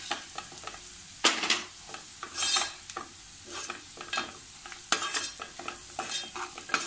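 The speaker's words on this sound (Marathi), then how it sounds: "1 चमचा गोडा मसाला, थोडं परतून घ्यायचं आहे" Cluster beans with goda masala sautéing in oil while a spoon stirs and scrapes the pan in uneven bursts over a quiet, constant sizzle.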